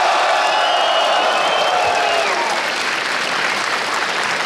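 Esports crowd applauding at a League of Legends match in the EU LCS 2013 summer season, a dense, steady wash of clapping that stays loud for the whole stretch with faint cheering mixed in.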